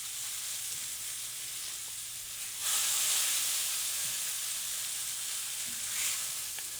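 Meat sears in a pan for a college-style home meal, a steady close sizzle and hiss that swells louder midway with brief spits and crackles, no voices.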